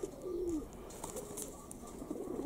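Young pigeons coo softly in a pigeon loft, a few low throaty warbling calls close by over steady background noise.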